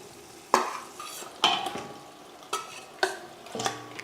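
Masala-marinated chicken for a chicken biryani fries in a pot, with a steady low sizzle broken by four or five sharp scrapes and clanks of a spoon stirring against the metal, close and clear.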